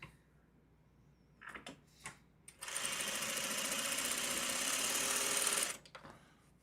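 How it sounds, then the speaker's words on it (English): A sewing machine stitches in one steady, fairly loud burst of about three seconds, preceded by a few short clicks and bumps and followed by quiet handling noise. "I will sew this one."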